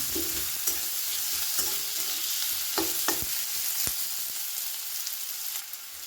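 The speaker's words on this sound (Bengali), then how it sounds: "পেঁয়াজটা একটু ভাজা ভাজা করে নিয়েছি" Chopped onion sizzles steadily in a pan, with the crackle of frying kept up throughout and a few sharp scrapes of a spatula stirring it, close and clear with no talking.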